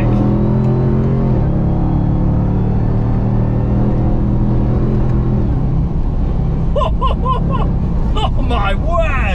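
A 702hp Dodge RAM TRX pickup roars under load around the Nürburgring Nordschleife, its loud, close engine drone stepping in pitch through a couple of shifts, with someone speaking over the engine noise in the final seconds.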